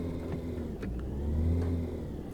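Car engine in the Taxi Life city driving simulator game, played on a Logitech G29 wheel, holding a steady mid-pitched drone that swells as it accelerates, then eases, with no talk over it.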